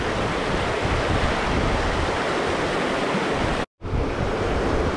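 A canyon river with brown trout rushes loudly and steadily in a dense, continuous roar close by, broken only by a brief total dropout near the end.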